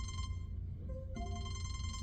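A telephone rings with an incoming call, a faint repeating electronic ring pattern over a low background hum.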